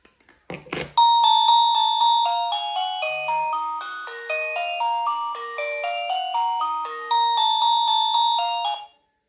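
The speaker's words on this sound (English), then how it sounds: "when you push one of these call buttons, it causes the main box to make an alarm noise" The main box of a wireless call button system plays a loud, clear electronic chime melody, repeating descending tone phrases for about eight seconds after a button press clicks, with no talking.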